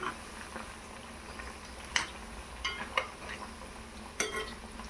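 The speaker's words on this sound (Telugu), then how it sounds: "వీటిని నెమ్మదిగా మీడియం ఫ్లేమ్లో ఫ్రై చేసుకోవాలి." Potato and carrot snacks deep frying in oil over a medium flame, a soft steady bubbling hiss broken by a few sharp clinks and scrapes of a utensil against the pan.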